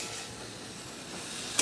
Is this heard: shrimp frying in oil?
yes